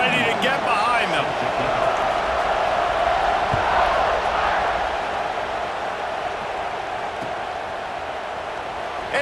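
A roaring stadium crowd at a college football game in EA Sports College Football 26 fills the air with a dense, steady cheer that swells and slowly eases before the kickoff, alone without speech.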